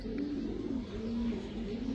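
Pigeons coo in a steady, continuous low murmur, fairly close, filling the whole stretch without any talk.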